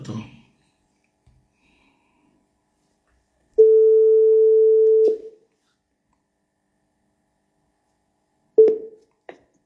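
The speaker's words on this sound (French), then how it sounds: "Je vais lancer l'appel." A telephone call being placed: a single steady dial tone holds for about a second and a half, then a short burst of tones follows after a pause, clean and close with no talking.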